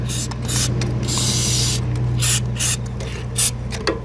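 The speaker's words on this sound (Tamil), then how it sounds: "இப்படி அடிக்கும்போது உங்களுக்கு அப்படியே லைட்டாக ஸ்ப்ரே பண்ணவே வந்துடுது." Aerosol chain lube sprayed onto a motorcycle chain through a universal lube tool, heard as repeated hissy bursts with faint mechanical clicks over a steady low hum.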